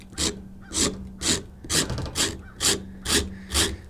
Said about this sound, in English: I just use a pocket knife and I just scrape it off of there.